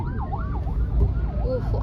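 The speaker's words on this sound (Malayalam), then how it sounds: "ആംബുലൻസ് പറപ്പിച്ചു" An ambulance siren wails past on a road, its rising and falling tone sweeping loud and close over steady traffic rumble, with no talking.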